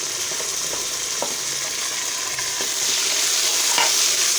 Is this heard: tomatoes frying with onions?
yes